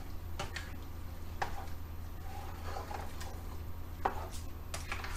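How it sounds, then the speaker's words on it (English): A spoon stirs a big pot of vegan brown rice pasta with leafy greens, giving a few soft, scattered scrapes and clinks over a steady low kitchen hum. "And then just give it a good stir."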